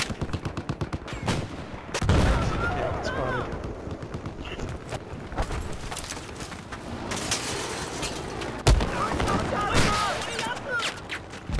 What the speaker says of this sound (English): Someone in that tank is shooting at one of them.